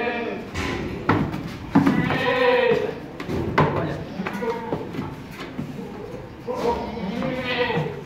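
A large goat at a Mumbai goat farm bleats several times while being lifted onto a weighing scale, the cries mixed with people talking and handling noise close by.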